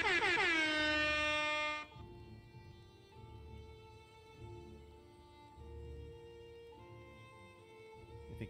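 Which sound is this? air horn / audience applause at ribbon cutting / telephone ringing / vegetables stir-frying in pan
air horn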